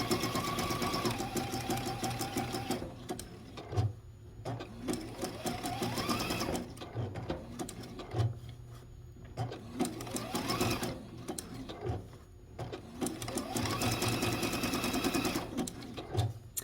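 Sewing machine stitching bias tape onto a quilt, a close mechanical chatter in bursts of running stitches separated by short pauses, with faint talking in between.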